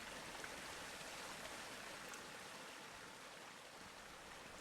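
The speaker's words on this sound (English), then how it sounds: "these waterfalls have their own sound, which is nice as well" A waterfall inside a cave in the Age of Sorcery video game gives off a soft, continuous splashing wash, faint and even throughout with no breaks.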